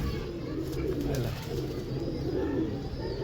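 A Lakha pigeon coos softly and repeatedly nearby, a low, rounded throaty sound that holds at a fairly quiet, steady level with no talking.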